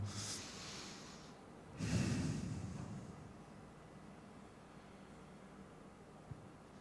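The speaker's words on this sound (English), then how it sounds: "take a big breath and inhale" A single deep inhale during a guided calming breathing exercise, a soft rushing breath swelling briefly and fading, near and quiet against a faint background hiss.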